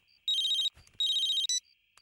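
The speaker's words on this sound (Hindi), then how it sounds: "लगता है किसी का फोन आ रहा है।" A mobile phone ringtone chirps in two bright electronic bursts separated by a short pause, close and clear, with a brief rustle between them and no talking.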